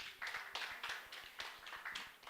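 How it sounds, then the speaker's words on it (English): Competing university teams at a constitutional law moot court competition clap for themselves, a faint, distant patter of many hands in uneven rhythm with no voices. "Please clap for yourselves."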